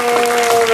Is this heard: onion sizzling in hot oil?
no